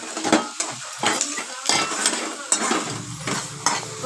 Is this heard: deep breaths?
no